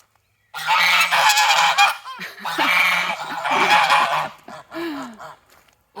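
Geese honk loudly and close in repeated harsh bursts, several birds calling over one another in the morning, with brief pauses between noisy volleys.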